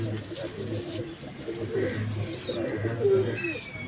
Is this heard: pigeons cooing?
yes